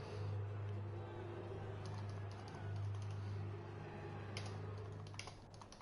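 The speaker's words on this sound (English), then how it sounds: "Okay, I have my keyboard" Steady clicking of typing on a computer keyboard during an online racing league broadcast, rapid close keystrokes over a constant low electrical hum, with no talk.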